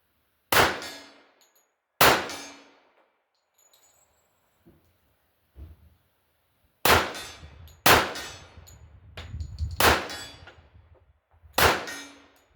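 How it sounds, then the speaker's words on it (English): Pistol shots from a 1911 ringing off a steel plate target at about 50 yards, seven sharp metallic clangs spaced irregularly, each followed by a brief fading ring, with quiet gaps between. "to be hitting a steel plate amongst those black targets in the distance"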